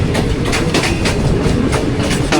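A train runs past on a Pakistan Railways line at Gujranwala Cantt, close and loud. Its wheels beat out a quick, regular clickety-clack over the rail joints with a steady rumble beneath.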